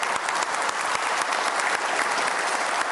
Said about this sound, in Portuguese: peço nesse plenário uma salva de palmas